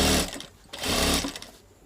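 A sewing machine stitching a blouse runs in two loud bursts with a short slowdown between, steady motor whir and needle chatter close by.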